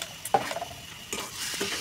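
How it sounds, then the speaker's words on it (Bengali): Potatoes and spices stirred and fried in a pan, soft sizzling with a few quick scraping strokes and light clinks of a spoon against the metal, close and fairly quiet. "আলু দিয়ে মশলা কষানো হয়ে গেছে ভালো করে"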